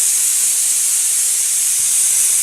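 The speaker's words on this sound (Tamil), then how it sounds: "இப்போது இந்த குக்கர் 3 விசில் கொடுத்துருக்குங்க." A pressure cooker whistle blasts out steam while thakkali kuzhambu cooks on the stove, a loud, steady, high hiss sustained throughout with no voices.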